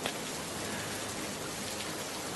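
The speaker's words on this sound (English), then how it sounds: "A warm, steady rain was showering the entire land" A warm, steady rain shower falls over open land, a dense, even hiss of drops with no gaps or changes, moderately loud and alone.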